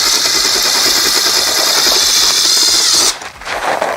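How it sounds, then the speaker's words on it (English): A power drill drives self-tapping screws into a lowered seat frame on a Honda Ruckus scooter, a loud steady whirring buzz for about three seconds that then cuts off abruptly, followed by faint handling noise. "I'm self-tapping these, so it's a little different than what you would normally do"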